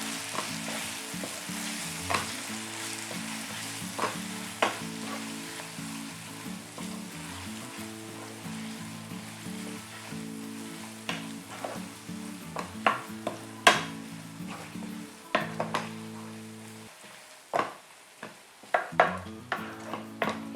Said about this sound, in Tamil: இதில் பெருங்காயம் சேர்க்குறேன், அதுக்கப்புறம் உப்பு. ஸோ அதை நல்லா மிக்ஸ் பண்ணிக்கிறேன்.